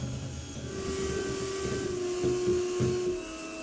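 An electric mixer beats batter for steamed chocolate marble brownies at medium-to-high speed, producing a loud, close, steady whining motor hum with a slight rattle that cuts off near the end.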